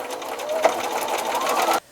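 Sewing machine stitching fabric pieces for an embroidered pillow with piping: a steady, close, fast rhythmic whir and needle clatter that runs continuously, then stops abruptly.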